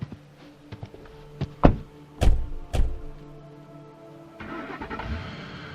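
A car engine cranks and catches, preceded by a couple of sharp thunks like doors shutting, then settles into a low idle with rising engine noise as the vehicle begins to drive off.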